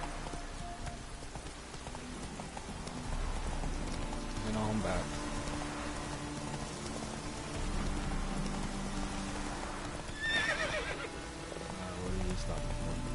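Horse neighing and hooves clip-clopping in The Witcher 3 game, a whinny midway and another near the end over steady rain-like ambience, with someone talking.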